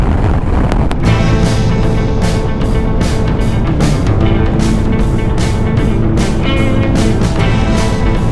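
Strong wind buffets the microphone on a late, rainy morning in Scotland on the NC500 route, a loud, continuous rumble with gusty surges and a steady drone underneath, no voices.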